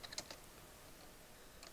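Computer keyboard keys are typed on in a quick burst of light clicks, then a pause and a couple more taps, close and fairly quiet under a steady room hiss.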